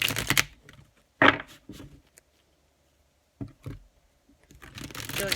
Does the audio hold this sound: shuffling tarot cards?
yes